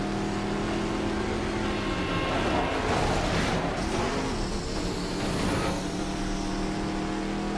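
A muscle car engine drones steadily in the racing video game Midnight Club 3: DUB Edition Remix, a loud continuous roar that swells and eases slightly as the car drives.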